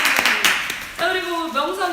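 A few sharp claps ring out at the start, then a voice speaks with rising, sing-song intonation over the remaining moments.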